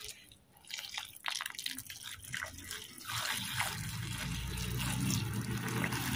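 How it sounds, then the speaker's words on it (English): Hot boiling water poured over raw fish to rinse off dust, a steady liquid pour and splash that rises after a few drips and runs continuously and close. "We're also going to add hot boiling water to the fishes to clean the fish, dust, and all of that."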